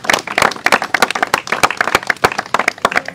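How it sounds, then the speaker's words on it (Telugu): Applause breaks out at a village auction of rice as a price is fixed, a short burst of many hands clapping unevenly and close for a few seconds. "చప్పట్లు."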